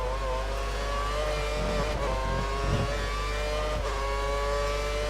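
Race car engine in the F1 2013 video game held at full throttle through a sixth-gear stretch at Silverstone, a steady high-pitched continuous whine with slight pitch shifts, loud and constant with no talk.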